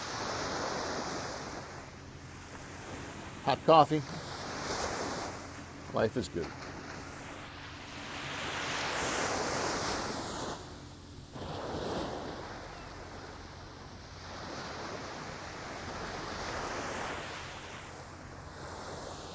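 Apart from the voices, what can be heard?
calm Atlantic Ocean waves at Deerfield Beach, Florida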